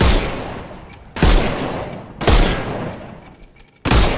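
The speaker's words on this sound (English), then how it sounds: "Shoot off their armour." Video game gunfire in Sherlock Holmes Chapter One, shooting the armour off enemies: four loud, sharp shots spaced about a second apart, each with a long decaying tail, no talk.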